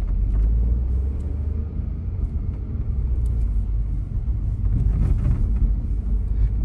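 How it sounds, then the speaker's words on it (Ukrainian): Steady low road rumble inside a 2016 Citroen C4 Cactus cabin while driving with the windows closed, a continuous engine and tyre drone with faint light creaks over it. "Давайте закриємо вікна, зараз ось проїдемось в тиші і ви самі все почуєте."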